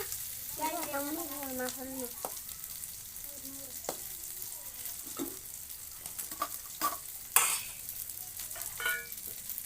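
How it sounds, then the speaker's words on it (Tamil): Onion and tomato sautéing in a pan, a soft steady sizzle with intermittent scraping stirs and clinks of a spoon, heard close, while a person talks briefly near the start. "வெங்காய தக்காளி போட்டுக்கலாம் மக்களே. வதக்கிக்கலாம் மக்களே."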